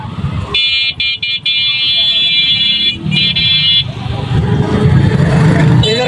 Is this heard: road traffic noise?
yes